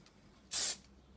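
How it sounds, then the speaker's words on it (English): A single short, sharp burst of aerosol spray paint hisses close by, a light coat on a Hornby model locomotive, lasting under half a second against quiet background. "I'm just going to spray very light coats and thin coats"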